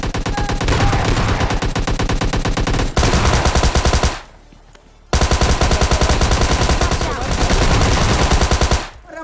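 Rapid automatic gunfire in the mobile battle-royale game PUBG Lite, two long loud bursts of evenly spaced shots separated by a short pause, very close and dominating the sound.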